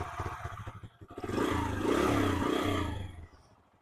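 A Bajaj Freedom CNG motorcycle engine idles unevenly, swells into a rough rev, then dies away as the engine cuts out on its own, close and moderately loud.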